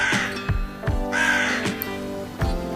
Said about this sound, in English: This bird is crow.